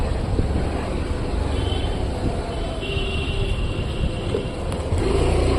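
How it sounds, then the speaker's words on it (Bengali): Steady wind rushing and buffeting outdoors, a constant broad roar with low rumble, no talking. "বাইরের ওয়েদারটা দারুণ, খুব সুন্দর হাওয়া দিচ্ছে"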